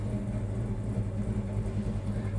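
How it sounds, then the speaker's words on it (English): A 1966 Chevrolet Chevelle SS engine idling steadily, a low, even rumble with a faint mechanical whir, continuous and moderately quiet. "Notice how nicely we're idling."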